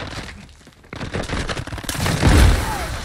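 Shotgun fire in Modern Warfare 2, a shotgun-built loadout in online play: a few close, heavy blasts punch through busy game noise and scattered distant gunfire, with the loudest burst near the end.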